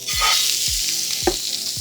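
Fish frying in a tablespoon of oil in a pan over medium heat, a steady loud sizzle with bright crackle throughout and a few low knocks from the pan.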